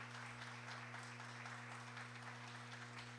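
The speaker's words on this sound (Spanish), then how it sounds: "Dele un fuerte aplauso hoy a Él." A congregation claps during a church worship service, a faint, even applause over a steady low electrical hum.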